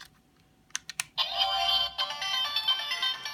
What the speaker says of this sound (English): the standard kyuranger turn-on confirmation noise